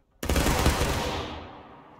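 A massed musket volley from a line of infantry in the Civil War game War of Rights cracks out at once, a sharp loud blast that rolls and decays over nearly two seconds.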